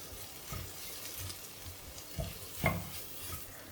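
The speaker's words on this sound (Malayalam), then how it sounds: "എല്ലാം കൂടെ ഒന്ന് മിക്സ് ചെയ്യാം" Turmeric, coriander and Kashmiri chilli powders being stirred together in a pan for vendakka mappas: a low sizzle under a few distinct scrapes and taps of the spoon, close and without speech.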